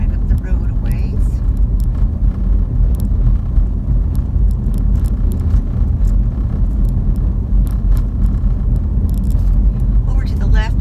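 A car drives along a bumpy road near the Imperial Dam in Yuma, Arizona, giving a steady, loud low rumble with faint rattles and knocks throughout.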